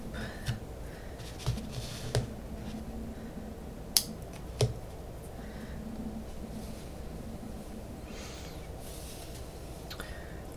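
A few crisp snips from small trim scissors cutting thread, scattered clicks spaced apart over a quiet background, no talking.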